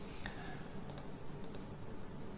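Computer mouse clicking during modeling work in Creo Parametric, a few faint, quick clicks in pairs against a soft steady room hum.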